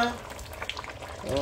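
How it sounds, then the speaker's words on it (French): Oxtail broth with peppers is stirred in a pot, giving a short, close burst of liquid swishing and low bubbling. "On va remuer un peu comme ça pour que ça se mélange bien."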